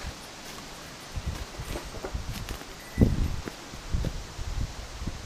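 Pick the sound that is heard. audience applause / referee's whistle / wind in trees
wind in trees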